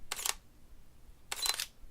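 Two Sony cameras, an a6500 and an a7R II, fire their shutters by remote control, giving two crisp separated mechanical clack bursts against near silence.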